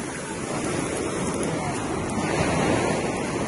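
Ocean surf washing up onto a beach, a steady broadband roar of breaking waves with wind noise across the microphone, continuous and fairly loud throughout.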